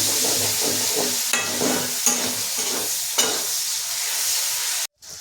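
Dried chillies, whole cumin, garam masala, bay leaf and onion fry in a pan with a steady close sizzle, broken by a few sharp spoon-stirring clacks before the sound cuts out briefly near the end.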